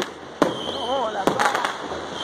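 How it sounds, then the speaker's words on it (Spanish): Fireworks and firecrackers go off during New Year celebrations in Peru, sharp loud bangs at intervals with crackling bursts, while a whistling rocket and voices sound in between. "Vamos a ver el año peruano, dando los cohetes."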